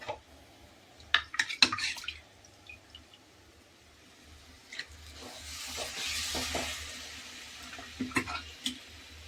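Fried masala of turmeric and chili being stirred into mutton in a pan, with soft wet scraping and stirring strokes over a quiet sizzle, growing busier toward the end.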